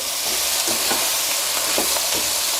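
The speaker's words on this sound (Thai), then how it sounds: "นี่ครับผัดไวๆครับ ผัดคลุกเขาให้เข้ากัน" Chicken stir-fried with spring onions and coriander in a hot pan, a steady loud sizzle under quick scraping stirs of the spatula, with no talking.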